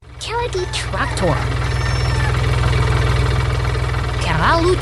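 A cartoon tractor engine idles loudly with a steady low chugging throb, while voices speak briefly over it near the start and end.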